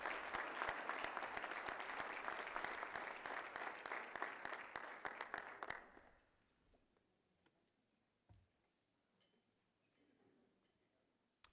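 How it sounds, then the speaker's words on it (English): A dinner crowd gives a round of applause for table sponsors, crisp individual claps for about six seconds before it stops abruptly, followed by quiet room noise with a few faint clicks and murmurs. "let's have one more round of applause this evening for our table sponsors"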